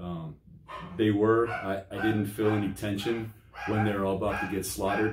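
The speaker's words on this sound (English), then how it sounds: "Sorry about my dog in the background." A dog barks intermittently in the background, faint to moderate, beneath someone talking steadily throughout.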